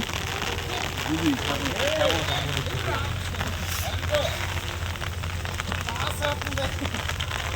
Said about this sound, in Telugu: వాన మాత్రం దుమ్ముగానే పడుతుంది ఇక్కడ